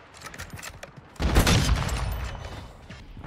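Video game gunfire: faint scattered shots give way to a sudden loud burst of rapid firing that continues as a dense rattling barrage.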